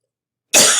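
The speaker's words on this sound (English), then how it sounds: "I have a cough" A single sharp cough bursts out after a moment of silence, loud and close.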